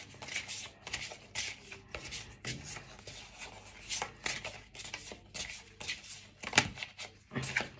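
A deck of cards is shuffled by hand for a card reading, with intermittent riffling and sliding bursts and soft rubbing, fairly close and quiet, repeating in irregular spurts with no talking.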